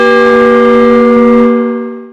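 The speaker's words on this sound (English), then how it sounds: "You could hear that bell a long distance." A church bell from an old belfry sounds loud and rich with a sustained, ringing tone before its hum fades away.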